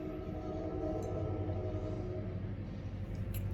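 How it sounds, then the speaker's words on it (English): A train passing near a house sets up a steady, muffled rumble with low droning tones from the rail cars. It sounds as if heard from indoors and holds constant throughout, with faint clinks now and then. "sorry about that train."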